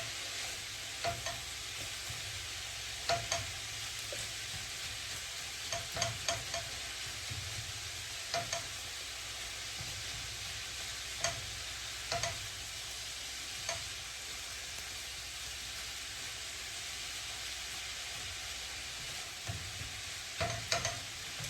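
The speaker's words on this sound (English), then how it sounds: "Now we just want to brown the meat." Ground meat for Bolognese sauce browns in a pan with a steady, even sizzle, and soft stirring scrapes and clicks recur throughout.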